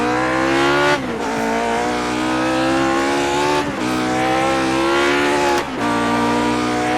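A Lotus 49 racing car's engine screams at full throttle in iRacing, a loud, continuous high-pitched howl that climbs through the revs, with brief dips at each upshift.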